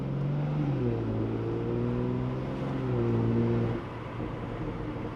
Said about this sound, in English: With the valves open and the gearbox in the second mode.